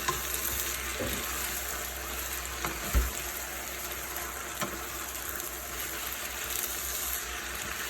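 Shrimp and chicken lo mein being stirred in a frying pan, a steady close sizzle with a few soft utensil scrapes and knocks spread through, no voices.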